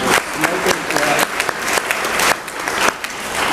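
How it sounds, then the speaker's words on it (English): Applause from the audience at an office staff meeting, a dense, steady burst of many people clapping at close range for a few seconds, with some voices mixed into the clapping. "All right, give him a round of applause."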